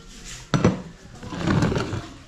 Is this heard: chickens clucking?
no